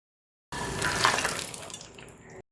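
Ghee with roasted coconut, cashews and raisins is poured into a pot of broken-wheat payasam, giving a brief close liquid pour and sizzle that lasts about two seconds and then stops.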